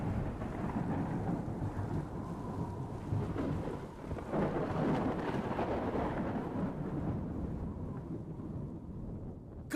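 Stage thunderstorm effect for a school play performance: steady heavy rain with low, rolling thunder rumbles filling the whole stretch, loud and continuous without speech.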